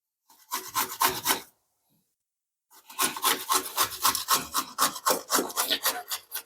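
Coconut scraped against a hand grater in quick, steady rasping strokes, a short burst, then about a second of silence, then a longer run of evenly paced scrapes, close and fairly loud.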